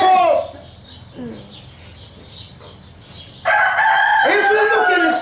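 Farmyard poultry: a rooster crows loudly at the start, then quieter hen clucking, and a second strong crow takes up the final stretch.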